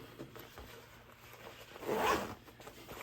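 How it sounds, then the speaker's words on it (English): A zipper on a handmade crossbody bag being drawn along its track, a quiet scratchy rasp that swells briefly to a louder pull near the end. "And that's a crappy zipper in the end of it."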